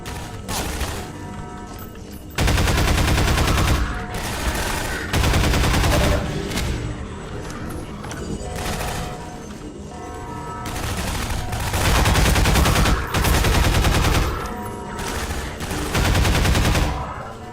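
Pulse rifle fire in Half-Life 2 Episode Two: repeated loud, sustained automatic bursts a second or two long, separated by brief quieter gaps, close and dominant throughout with no talking.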